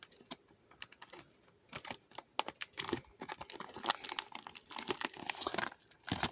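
A plastic MRE strudel dessert pouch is handled and torn open up close, with quiet irregular crinkling and sharp tearing crackles in short bursts.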